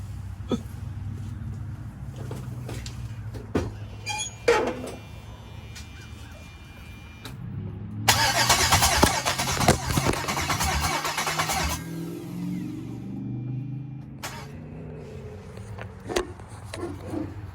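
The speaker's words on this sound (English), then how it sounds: "But man, y'all heard it turn over, man." A 6.0 LS V8 swapped into a G-body Cutlass cranks and turns over for about four seconds in a loud burst, with scattered knocks and handling noises before and after in a garage-like setting.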